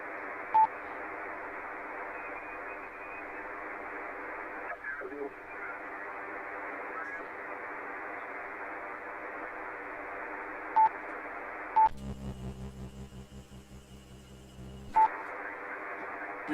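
On an amateur radio net, a faint station drifts in from a nearby frequency as a steady hiss of noisy, garbled signal, punctuated by a few short beeps and a brief burst of harsher static.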